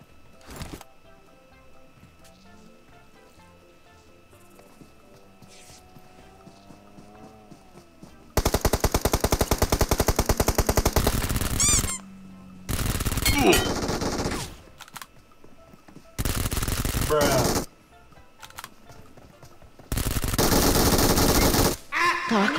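Rapid automatic gunfire from the player's weapon in a shooting video game, coming in several loud, close bursts of a second or two each, separated by quieter stretches of faint ambient game sound.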